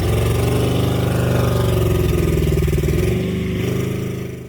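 An old tempo's weak engine chugs steadily while the vehicle is stuck in mud, a loud, continuous mid-pitched drone up close that fades slightly near the end.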